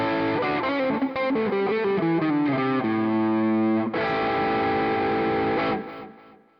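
Telecaster-style electric guitar on the neck pickup in coil split, with a light crunchy drive, plays a short run of notes, then lets a full chord ring out and fade.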